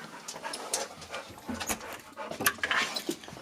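A dog pants steadily at close range, quick breathy puffs running throughout, alongside faint clinks like dishes or cutlery in a home before a walk.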